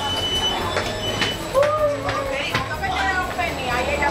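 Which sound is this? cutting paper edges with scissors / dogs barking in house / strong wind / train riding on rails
train riding on rails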